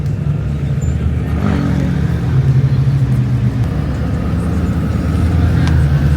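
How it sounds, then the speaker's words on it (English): A camera car pulls out among supercars including a Jesko Absolute, its engine giving a steady low rumble with a slight rise in revs around the midpoint, fairly close and continuous. "Look at that, their camera car pulling out."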